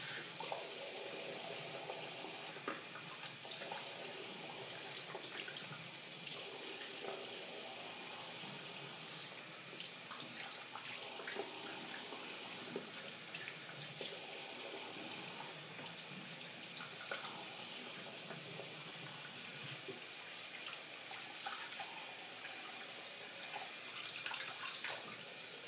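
A tap runs continuously into a sink or tub to fill water for a cat's bath, a faint steady splashing hiss with no voices.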